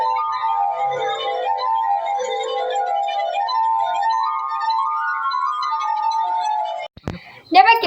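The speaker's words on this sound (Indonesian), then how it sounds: "gelas yang disentuh akan mengeluarkan bunyi yang berbeda" A drinking glass rings with sustained, gliding tones from being rubbed, the pitch wandering up and down for several seconds before sharp clinks and a brief higher ring at the end.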